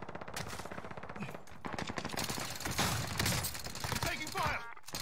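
Gunfire rattles in Warzone on Rebirth Island: rapid automatic bursts crackle close and loud, broken by brief gaps, with shots overlapping from more than one weapon.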